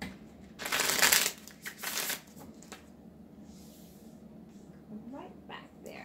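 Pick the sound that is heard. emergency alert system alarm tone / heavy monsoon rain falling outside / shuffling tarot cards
shuffling tarot cards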